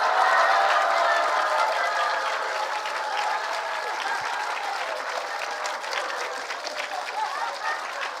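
Applause and cheering from a church congregation at a Korean family healing revival service, a dense, steady roar of clapping and shouting that fills the room, loudest at the start and easing slightly, with voices mixed into the crowd.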